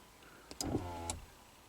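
A Subaru smart power window motor runs in one short whirring burst of under a second, with a click at the start and another at the stop, heard close and alone.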